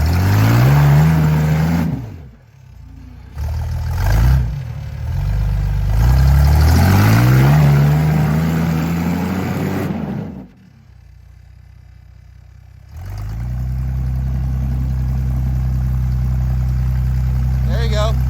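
A car with brand-new tires revs hard to full throttle in loud, rising bursts separated by pauses, then settles into a steady engine drone; people talk over the engine at the start.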